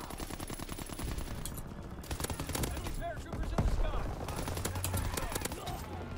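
An aircraft gunner fires a machine gun in Call of Duty WWII, sharp rapid bursts broken by short pauses, with talk over the shooting.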